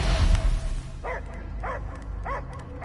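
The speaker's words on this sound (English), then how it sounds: "I hear only barking." A dog barks in the Guardians of the Galaxy video game, four evenly spaced, sharp barks after a low rumbling opening, heard over a steady background hum.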